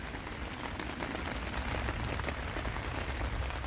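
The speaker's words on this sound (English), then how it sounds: "we've actually got some decent rain" Decent rain drums on a OneTigris Backwoods Bungalow 2.0 tent, a close, steady, dense patter of drops on fabric with no letup.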